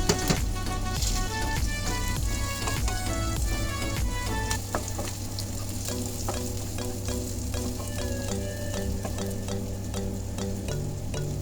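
Beans and carrots frying in a pan make a continuous loud sizzle with clattering stirring throughout, close up and without talk.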